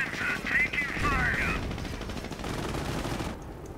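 Gunfire in the Company of Heroes video game as a heavy panzer comes under attack: rapid bursts of shots rattle over a dense battle din, with a brief whistling tone early on.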